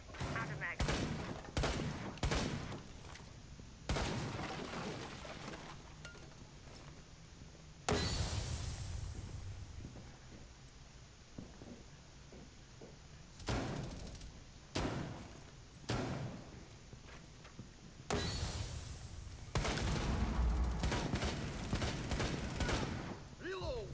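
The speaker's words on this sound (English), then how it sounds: "Let Glaz shoot through the smoke." Bursts of gunfire in the video game Rainbow Six Siege, with an operator firing through smoke during a hostage match on the Oregon map: loud repeated volleys separated by short pauses, with voices talking over parts of the action.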